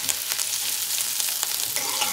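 Tomatoes fry in a pan on a gas stove for a fish curry, a close, steady sizzle with faint stirring scrapes and no talk.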